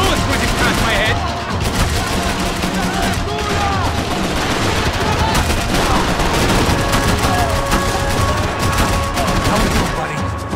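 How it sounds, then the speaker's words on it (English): Dense, continuous gunfire with bursts and rapid automatic fire from the Max Payne 3 video game, loud and close, with bullets whizzing by and faint voices mixed in under the shooting. "I can't concentrate with bullets whizzing past my head"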